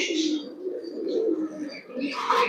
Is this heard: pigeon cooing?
yes